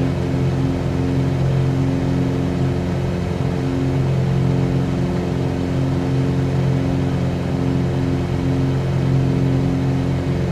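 A Cessna 182Q light airplane's piston engine drones steadily just after takeoff from runway 34, a continuous loud cabin hum with a steady tonal buzz and no talk over it.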